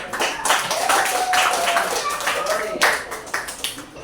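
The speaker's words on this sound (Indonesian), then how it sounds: "Kita beri aplaus kepada kedua kelompok 1 dan kelompok 5 tadi" A classroom full of students applauding two student groups: a close, brisk burst of many hands clapping, mixed with voices murmuring underneath.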